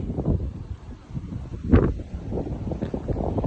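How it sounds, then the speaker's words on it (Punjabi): Steady wind buffeting against the microphone in a farm field beside standing maize, a low rumbling roar that gusts throughout with a brief rustle partway through. "ਅੱਜ ਹਵਾ ਬੜੀ ਘੈਂਟ ਹੈ"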